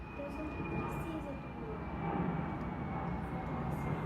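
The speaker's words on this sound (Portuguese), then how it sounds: "Tem que falar mais alto, Manu, por causa do barulho do avião." An airplane drones loudly and steadily overhead, a constant low roar with a faint high whine that fills the whole stretch, with speech faintly beneath it.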